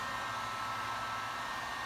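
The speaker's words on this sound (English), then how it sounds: "You have to be quick with the heat gun from a distance." A heat gun blows hot air over vinyl wrap on a Shelby Rustang, a steady and close rushing hiss that holds at one level the whole time.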